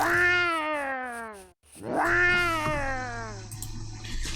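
Cats in the game Legend of Mir let out two long, drawn-out meows one after another, loud and close, with a faint steady background hum beneath.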